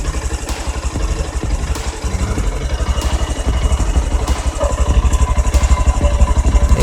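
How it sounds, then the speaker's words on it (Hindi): Honda X Blade BS6 motorcycle exhaust at idle, a loud, close, rhythmic low putter that grows slightly stronger toward the end, running alone without speech. "और एग्जॉस्ट का साउंड।"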